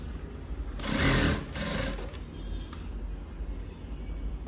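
A sewing machine stitches a chudi lining in a tailoring setting, with a short loud burst of running followed by quieter intermittent stitching.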